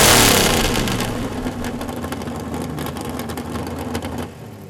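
Animated car engine revving hard, loud and near at the start, then settling into a steady throaty drone that cuts back near the end, with no talking.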